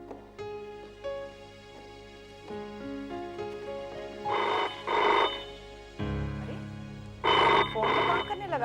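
An old-style telephone bell rings in two loud double bursts, close by, over a quiet tonal background with no talk.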